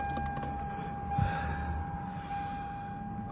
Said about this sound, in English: Where are my keys?